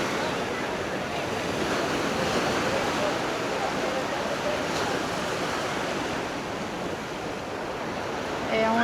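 Waves break on a wide beach at Malaga, Spain, producing a continuous close wash of surf with wind buffeting the microphone. A voice speaks faintly beneath it.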